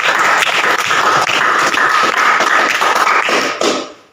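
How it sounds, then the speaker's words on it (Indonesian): Schoolchildren clap for a pupil receiving an award: a loud, close, continuous burst of many hands that cuts off abruptly near the end. "Tepuk tangan buat."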